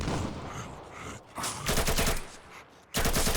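Gunfire in the zombie shooter Battle of Rebels: rapid automatic bursts of shots, loud and close, in several rattling volleys separated by short pauses.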